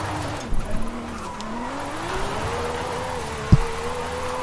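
A Lamborghini Countach drift car driving, its engine note rising steadily with brief tire chirps and one sharp thump near the end, no talking.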